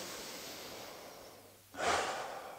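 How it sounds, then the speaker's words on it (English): Deep breathing during a no-equipment home workout, heard as a long slow breath followed by a sharp, fairly strong exhale or sniff, close and with no talk over it. "I'm going to take a couple deep breaths."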